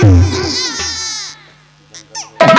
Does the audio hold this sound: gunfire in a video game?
no